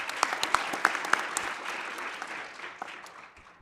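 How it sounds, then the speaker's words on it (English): Warm applause from a conference audience for a panel session at an annual meeting in Kigali, Rwanda: a few sharp nearby claps over a steady wash of clapping that slowly fades out. "Can we just give them a warm applause?"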